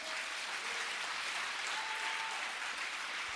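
A church congregation claps throughout, a continuous wash of applause at moderate distance, even and unbroken from start to finish.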